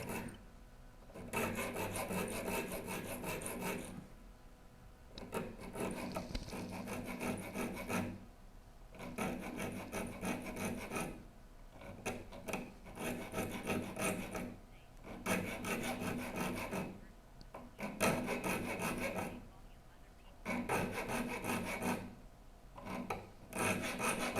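A metal file rasping across the teeth of a rip saw during sharpening, steady back-and-forth strokes in long runs separated by short pauses, close and fairly loud with no talking.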